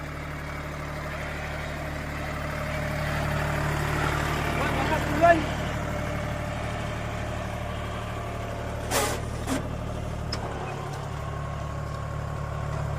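A tractor engine idles with a steady low drone while forming raised beds for planting turmeric in a field, with a few brief clanks toward the end and a voice speaking over it.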